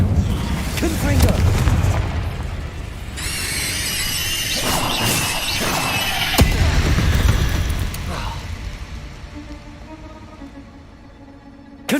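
Explosive fire-curse blasts from a wizard's spell in the game Hogwarts Legacy, loud crashing booms and bright bursts layered over a busy game soundtrack, with a sharp crack near the middle and talk in the background.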